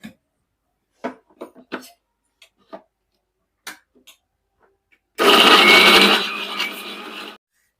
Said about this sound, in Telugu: కొబ్బరి చిన్న చిన్న ముక్కలు కట్ చేసి పెట్టుకున్నా తెల్లగడ్డలు ఒక టమాటా ఎర్రగడ్డలు రెండు అంతా మిక్సీ వేసి మెత్తగా గ్రైండ్ చేసుకున్నాము